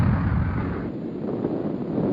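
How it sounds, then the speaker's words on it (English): China's first nuclear bomb explosion from a 1964 propaganda film gives a loud, continuous low rumble and roar. It is heavy and wind-blown, with a slight dip partway through, and plays alone with no talk. "The explosion of China's first nuclear bomb in October 1964 was seen as a tremendous scientific and political victory"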